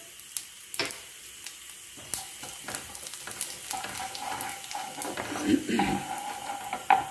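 Cumin seeds and asafoetida sizzle and crackle in about two tablespoons of hot mustard oil in a kadhai, a steady close frying hiss with scattered pops and a few stirring clinks from the pan.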